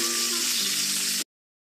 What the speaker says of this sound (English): Do you remember being a kid and waking to the smell of bacon frying on the stove?